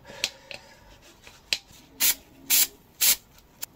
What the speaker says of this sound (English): putting spray adhesive on here